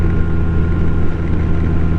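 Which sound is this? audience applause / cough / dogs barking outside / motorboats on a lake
motorboats on a lake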